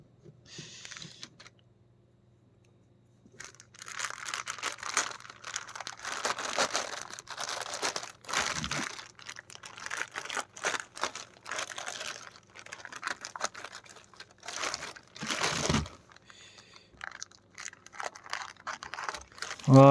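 Plastic and cardboard packaging of an Ichiban Kuji Cell first-form figure being opened, with close crinkling, tearing and rustling in irregular bursts, a few sharper crunches, and occasional pauses.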